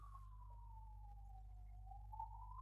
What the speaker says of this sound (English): if I don't know if you can hear the ambulance in the background,